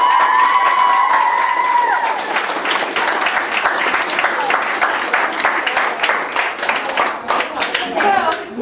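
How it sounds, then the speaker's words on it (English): An audience claps and cheers together at an indoor gathering, the dense applause swelling and continuing throughout, while a voice speaks over the start. "Everybody clap."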